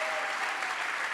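A crowd applauds at an opening ceremony, a steady even wash of clapping from many hands at moderate distance, unbroken and without voices on top.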